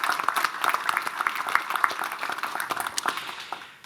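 An audience at a New Year's greetings reception in Ardenne Métropole claps for municipal agents, scattered individual claps building into light applause that trails off.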